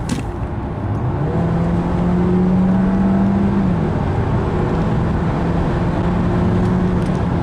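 Accelerating from 100 to 140 km/h, an Opel Grandland 1.6 Turbo AWD plug-in hybrid makes a steady, muffled engine drone heard from inside the cabin, with pitch climbing as speed builds, then easing slightly.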